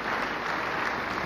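A congregation applauding during a church sermon: a dense, steady wash of clapping from many hands, loud and continuous, with no voices over it.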